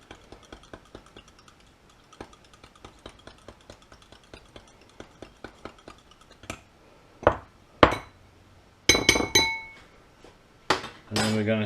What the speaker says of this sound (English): So, beat that all together.